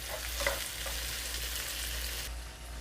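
Chopped vegetables being stir-fried in a pan for a Turkish breakfast, with a steady oily sizzle and a few scraping stirs of a spoon, continuous and fairly close.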